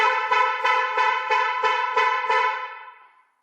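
A Korando car's alarm horn honks after shock detection, seven rapid evenly spaced beeps in a steady rhythm, loud and close, the last tone fading out smoothly with no talking.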